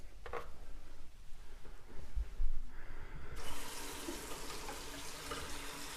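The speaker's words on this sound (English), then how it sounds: "let's go up on top and see how this thing's draining now" Water runs and gurgles steadily in a bathroom sink that has just been unclogged, draining freely. It is close and continuous, growing brighter and louder partway through, with no talking.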